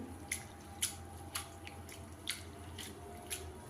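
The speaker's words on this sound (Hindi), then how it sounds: "अब पोहा में हम पानी डालकर अच्छे से धो लेंगे।" Poha (flattened rice) is washed by hand in water: soft, close wet squishes and drips recur every half second or so against a quiet background, with no talking.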